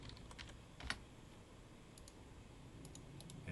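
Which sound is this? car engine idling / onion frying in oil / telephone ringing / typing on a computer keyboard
typing on a computer keyboard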